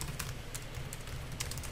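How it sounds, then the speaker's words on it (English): Typing on the keyboard of a Sony Vaio T Ultrabook laptop: a steady run of light, quick key clicks and taps, near and fairly soft, heard alone with no voices. "Laptop keyboard is quite comfortable for typing as well as gaming"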